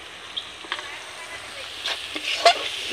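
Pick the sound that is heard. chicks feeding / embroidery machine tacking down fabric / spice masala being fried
spice masala being fried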